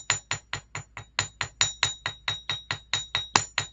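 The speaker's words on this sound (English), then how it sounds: "we're going to gently hammer the ends of the wire." Chasing hammer gently striking wire ends for lupine flower earrings, about eighteen even, rhythmic metallic taps with a bright ringing tone, close and clear with no talking.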